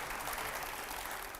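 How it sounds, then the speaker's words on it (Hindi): Audience applause in a crowded hall during a Hindi TV panel event, a dense steady patter of clapping filling the short moment without pause. "तालियां हो जाए।"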